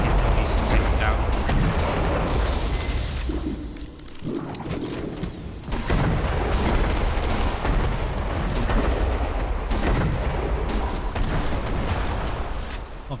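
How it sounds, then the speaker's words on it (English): Heavy tank cannon fire in the Operation Arrowhead video game, booming repeatedly in dense, loud bursts with a brief lull midway, all over a continuous rumbling battle backdrop. "just use the tank guns to take them out"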